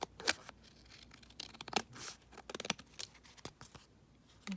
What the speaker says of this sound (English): But I'm just going to cut him down here like that. And I'm just going to trim across the top.